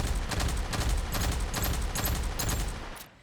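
The Twinhammer gun in the video game Aliens: Fireteam Elite firing a rapid sustained burst of shots, loud and continuous, stopping abruptly at the end.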